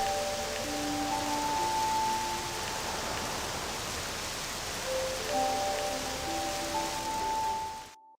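Steady rain pours in Octopath Traveler II, a dense even hiss of falling water over a deserted village, with soft sustained music tones drifting above it throughout.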